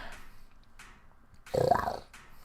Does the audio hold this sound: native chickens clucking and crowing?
no